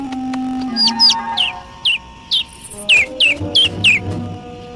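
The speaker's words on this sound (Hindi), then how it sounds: "ओह, एक नन्हा सा पंछी।" A small bird chirps in a quick series of sharp, high peeps, close and clear, with faint low rustling underneath.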